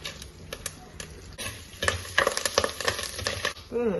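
Dried red chillies and curry leaves frying with asafoetida in hot oil as a tempering for pumpkin pachadi: a crackling sizzle that grows louder and busier midway, punctuated by sharp pops and spoon taps close by.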